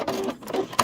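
A sewing machine makes a short burst of rapid stitching while back stitching a cross body sling bag, close and fairly quiet, with a brief pause mid-way.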